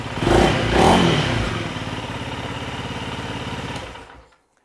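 A Honda CRF300L motorcycle with an aftermarket MotoX titanium exhaust idles steadily with a throaty, pulsing exhaust note, a couple of brief revs at the start, then cuts off.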